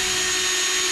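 A power drill bores holes into a brand new Supra car, giving a short, loud, steady motor whine with a constant tonal hum under a harsh broadband grind, heard alone for about a second.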